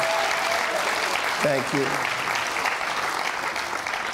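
A studio audience claps steadily throughout, with a brief spoken thank-you cutting through the applause.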